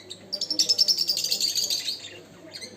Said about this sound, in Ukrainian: Так гарно співають. Це пташки.